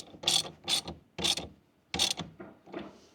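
A ratchet clicks while tightening a 10 mm nut on the positive battery terminal of a BMW E89 Z4. Four sharp, close bursts of pawl clicking come in an uneven rhythm, followed by softer final clicks.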